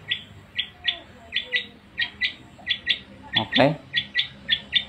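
A young cucak ijo, or green leafbird, sings a fast, regular series of sharp, bright whistled notes, about three per second, close and clear, with a brief spoken word partway through.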